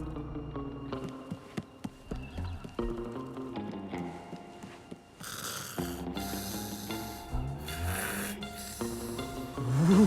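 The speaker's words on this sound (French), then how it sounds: "Et l'autre andouille qui ronfle comme un sac." A cartoon character snores loudly in a French animated series, rhythmic snorting breaths repeating over a busy musical score with plucked and percussive notes.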